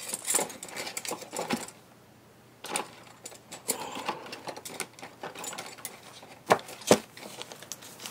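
A Lil Sew & Sew LSS202 Tivax sewing machine stitches in quick rattling bursts, close and moderately loud, stopping and starting with short pauses between runs.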